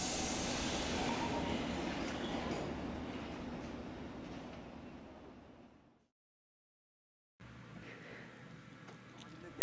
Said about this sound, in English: As the S-Stock departs, Alex goes to pick up his C-Stock train.